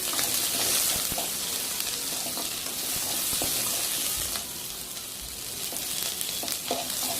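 Green chilli, ginger and garlic sautéing in hot oil for masala idli, a steady close sizzle and crackle with occasional stirring scrapes throughout, no voices.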